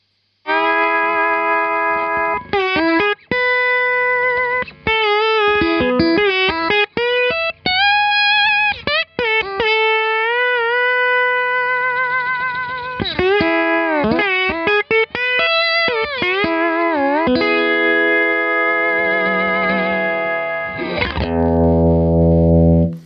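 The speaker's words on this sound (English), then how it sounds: "you can hear that compressor's working pretty hard there. It's really, really grabbing the front of those notes" Electric guitar through a Universal Audio UAFX compressor pedal, notes clamped hard at the attack and held with long even sustain, a steady run of single notes and chords with slight grit, loud and alone.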